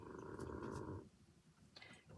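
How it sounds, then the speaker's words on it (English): Puppies snoring nearby, a low rumbling purr-like snore for about a second that then fades to quiet breathing, with a faint rustle near the end. "you hear my snory puppies again"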